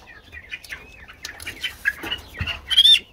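Sultan chickens cluck and squawk in short, irregular bursts close by, with sharp high chirps and a brief flutter.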